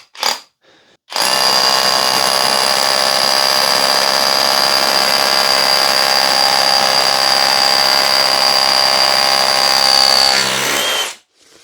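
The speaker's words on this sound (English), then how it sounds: "let's give this a bit of a drill." A Stanley FatMax V20 SDS hammer drill starts up and runs at a loud, steady whine for about ten seconds while drilling through, then cuts off abruptly.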